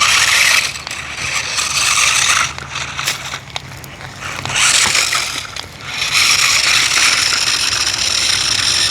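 A powerful RC car driving over rocky dirt mounds outdoors: a loud, gritty whine of its motor and wheels scraping and crunching over the ground, with brief dips between bursts.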